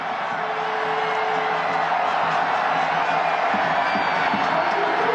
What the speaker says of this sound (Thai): เสียงแฟนๆที่ไปเชียร์ที่นั่นแฟนชาวไทยก็ไปกันไม่น้อยนะครับ